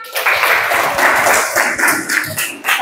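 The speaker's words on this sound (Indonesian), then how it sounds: "Beri tepuk tangan." A school class claps together in a brief burst of applause, lively and close, lasting a few seconds.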